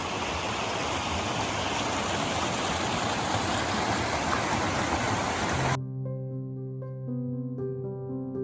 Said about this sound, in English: right below the rock slide behind these bushes is where the river re-emerges